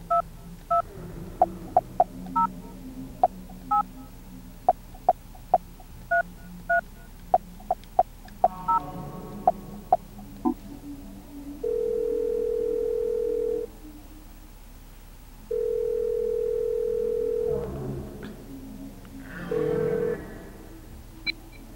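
Phone dialing in the Silent Hill: Shattered Memories video game: a string of short touch-tone beeps, then a steady dial tone sounding in three sustained bursts separated by pauses, clear and fairly loud with no talk.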